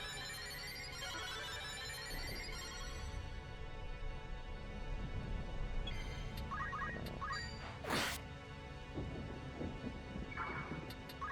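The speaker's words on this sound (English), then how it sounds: "Storm's brewing." Thunderstorm in the video game Final Fantasy Tactics: steady rain hiss with low thunder rumbles throughout, plus brief chiming game sound effects layered over the storm.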